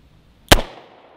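A single sharp, loud gunshot from a .38 Special Smith & Wesson J-Frame revolver fired toward a target inside a car's passenger seat, with a quick decaying tail and near silence before it.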